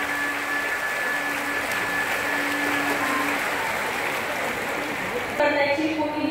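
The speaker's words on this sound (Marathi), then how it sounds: "आपण सर्वांनी जर वर हात करून टाळ्या वाजवायच्या." An audience at a lecture claps with raised hands, a steady broad wash of applause lasting several seconds with a faint tonal hum underneath and a voice coming in at the end.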